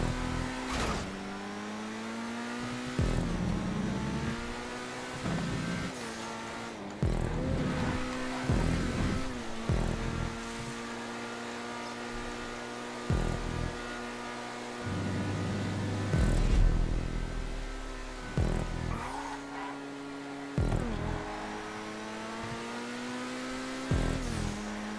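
Car engine on a GTA 5 race track, revving up through repeated gear changes with rising and falling pitch, close and continuous, with occasional bumps and tire noise throughout.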